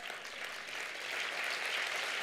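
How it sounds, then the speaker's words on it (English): Youth summit audience at the International Peace20 Youth Summit 2023 keeps up continuous applause, a soft, even roar of many hands that swells slightly toward the end, heard from a distance without talk over it. "Can I have a bigger round of applause?"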